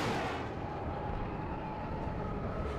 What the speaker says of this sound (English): There goes another F-4 Phantom, get shot down.